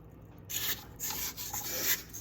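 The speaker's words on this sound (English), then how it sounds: "it's okay to stop it and just scrape down the sides, because sometimes things get pushed out to the side and it needs a little help" A rubber spatula scrapes down the sides of a mixer bowl of zucchini bread batter in a few close, rough rubbing strokes, with no talk.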